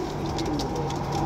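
Pigeons cooing in a loft among a batch of 22 birds offered for sale in Jhelum, a steady murmur of soft coos layered over constant low background noise with no talk.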